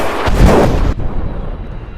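A missile explosion in the space combat game Star Citizen bursts loud and close with a heavy low boom, then cuts off abruptly into a quieter rumbling tail.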